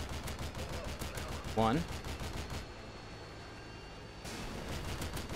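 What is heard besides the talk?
gunfire in video game Modern Warfare 2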